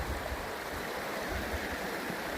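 Steady broadband rush of the Ammonoosuc River flowing, a continuous close stream wash of churning water with no voices.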